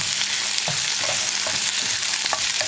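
Onion, green chili and tomato fry in a pan for onion chutney, a continuous bright sizzle with occasional soft scrapes of stirring, close and steady with no talking.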